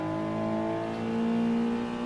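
A race car engine in Gran Turismo Sport holds a steady, high-revving drone with a slowly rising pitch, continuous and even throughout.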